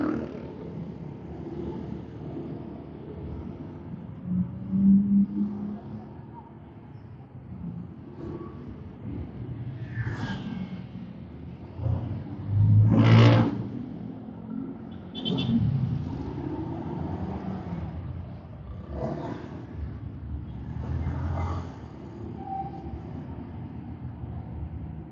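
A Honda ADV scooter's exhaust revs in several separate bursts, with one loud, sharp surge midway and lighter blips around it over a constant low rumble.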